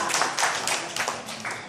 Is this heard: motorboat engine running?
no